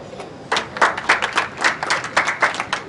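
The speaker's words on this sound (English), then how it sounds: "you have to give yourselves a round of applause too" A small audience breaks into a short round of hand clapping, a dense, close patter of claps that starts abruptly and continues steadily for a few seconds.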